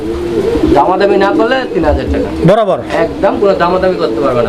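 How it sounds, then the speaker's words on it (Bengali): Pigeons at a market stall cooing in low, repeated throaty calls amid busy crowd chatter, with voices talking close over them for most of the stretch. "দর্শক বন্ধুরা দেখেন আপনারা কবুতর দেখেন"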